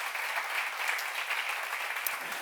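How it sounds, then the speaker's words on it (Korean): A church seminar audience claps together in a dense, steady burst of applause, heard at moderate distance with no voices over it. "맞는 사람만 박수 한번 쳐봐요."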